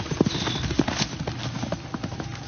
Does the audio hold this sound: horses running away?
yes